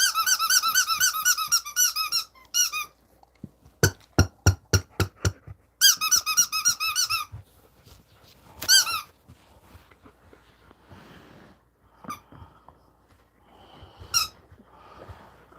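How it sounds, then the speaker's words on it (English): Dog chewing a squeaky toy, with repeated sharp squeaks that come in quick clusters and rhythmic runs, close and loud, separated by quieter chewing, snuffling and breathing. "so jealous of that pup because that squeaky toy"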